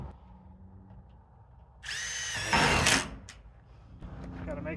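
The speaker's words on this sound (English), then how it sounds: "stick a screw in the bottom." A power drill briefly drives a screw into pole barn metal siding, a loud whirring burst of about one second rising into a sharper grind, with quieter outdoor ambience before and after.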